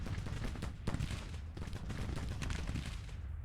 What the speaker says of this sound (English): These guys are firing at those guys.